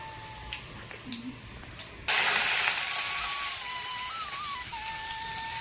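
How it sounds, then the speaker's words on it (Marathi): Water poured into a hot pan of oil with mustard seeds and garlic: a few faint ticks, then a sudden loud hiss that bursts out and keeps sizzling steadily, close by. "आता टाकून घेऊयात मध्ये पाणी."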